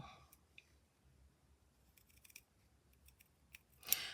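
Scissors cutting fabric for a sewing project, a quiet close series of snipping clicks and crisp cuts, irregular and sparse, with a sharper burst near the end.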